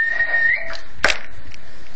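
Someone whistles into a radio transmitter microphone during power testing, a clear held whistled tone that bends and breaks off, followed by a short sharp burst.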